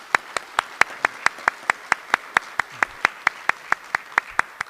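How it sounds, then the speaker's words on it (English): A single person claps steadily for panelists at a theatre discussion event, about twenty evenly spaced sharp claps, close and clear, with no other noise. "give a warm welcome round of applause to our panelists here today"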